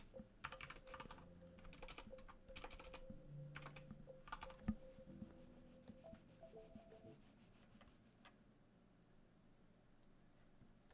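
Quick bursts of computer keyboard keystrokes entering a search, close and crisp, over a low background hum and faint music, fading to near quiet in the last few seconds.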